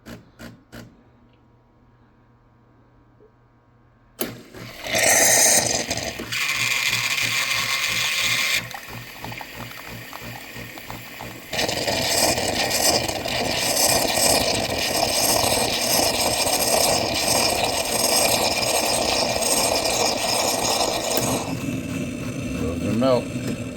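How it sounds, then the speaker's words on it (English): A Kenmore KKSACM-B super automatic coffee machine with a dual cream system draws milk through its system with a loud mechanical whirring and grinding that starts suddenly, shifts in pitch several times and runs close up for many seconds. "It's going to pull the milk out of there."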